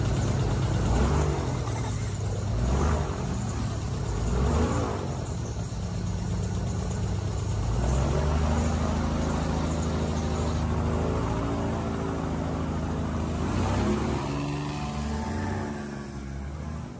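Loud, steady motor drone of a shallow boat's propeller engine, the propeller whirring in a protective metal cage, running throughout, with low rumbling tones that shift slightly in pitch.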